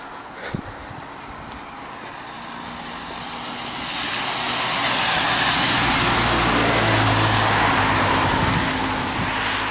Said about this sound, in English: Bus go splash!